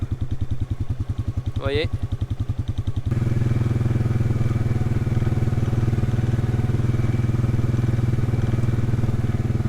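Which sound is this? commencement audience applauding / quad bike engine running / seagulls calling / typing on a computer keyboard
quad bike engine running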